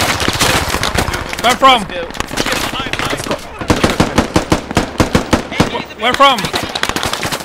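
Rapid bursts of automatic gunfire and single shots crack through a large mechanized infantry battle in the video game Squad, loud and close, with players' voices calling out over the shooting.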